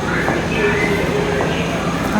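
A subway train rumbles into the station with a low, steady roar and faint metallic squeals, close by.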